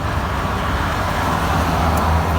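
Truck exhaust brake engaged while driving, heard from inside the cab with the window open: a loud, continuous rumbling roar layered over road and traffic noise, steady from start to finish.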